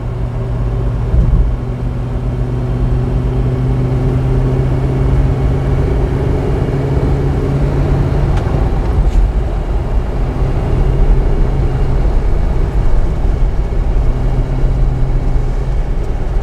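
A 1972 Mercedes 600 Pullman limousine cruises along a road, its engine and tyres producing a loud, steady low rumble and hum heard from inside the cabin without talk.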